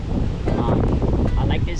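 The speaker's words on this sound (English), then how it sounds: "I don't know if you guys can hear me because it is windy." Strong wind buffeting the microphone on a beach while fishing, a loud steady roar of gusts with faint surf and rustling underneath.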